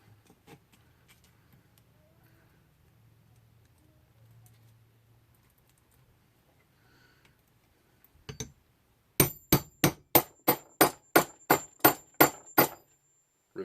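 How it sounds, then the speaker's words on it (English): A hammer strikes a rivet on a leather holster about a dozen times in a quick, even rhythm of sharp, close taps, following several seconds of near silence and a few faint handling noises. "Setting rivet 1."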